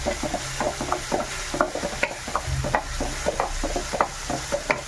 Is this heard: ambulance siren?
no